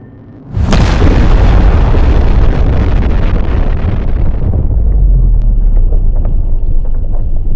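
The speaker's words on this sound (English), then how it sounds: "Airstrike complete." Airstrike explosion in the video game Ground of Aces: a sudden loud boom followed by a long roaring rumble that slowly settles, with no voices.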